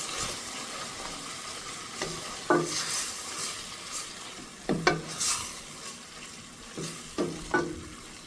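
Sazon and fried rice seasoning being stirred through food sizzling in a frying pan, a continuous close sizzle broken by several sharp spoon scrapes and taps against the pan, no talking.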